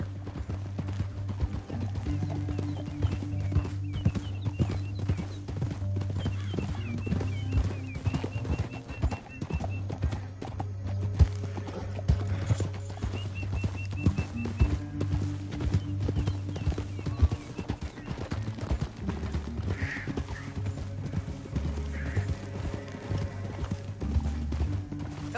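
Horse hooves clip-clop steadily through a PS4 Western game scene, walking at a regular rhythm over a low sustained music bed, with an occasional whinny.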